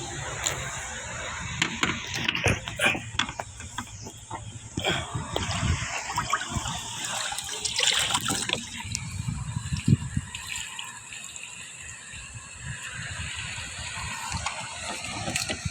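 A fish released into river water after a catfish outing, with close splashes and trickling water through the clip, a few sharp splash bursts standing out over a steady wet background.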